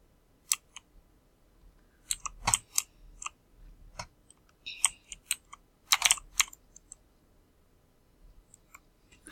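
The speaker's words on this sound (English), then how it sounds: "Sorry if you guys can hear my keyboard." Computer keyboard typing at a desktop while playing the Roblox game Murder Mystery 2, irregular bursts of sharp clicky keystrokes with pauses between, fairly close and alone without speech.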